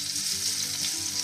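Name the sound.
oil heating and sizzling in a fry pan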